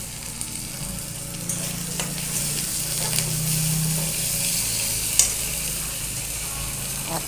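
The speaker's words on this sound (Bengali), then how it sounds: "পেঁয়াজগুলো ভাজা করছি" Onions frying in a pan, a steady close sizzle with occasional stirring scrapes and a brief clink, continuous and unaccompanied by speech.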